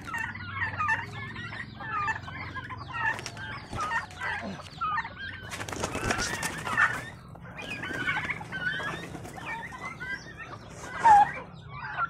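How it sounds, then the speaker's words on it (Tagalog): Rhode Island Red chickens in a coop, a flock clucking and squawking close by with one loud call standing out, busy and continuous. "Nandito guys yung ating mga Rhode Island Red"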